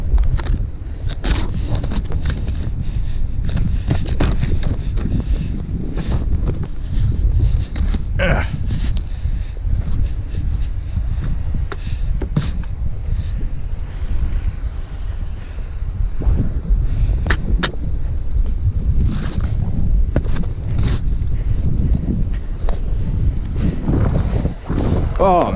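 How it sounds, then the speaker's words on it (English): Gusty wind buffets the microphone outdoors during a snowstorm in Denver, making loud, rumbling bursts of wind noise that rise and fall throughout, with faint rustling and thuds underneath. "that freaking wind is shooting it right in my ear"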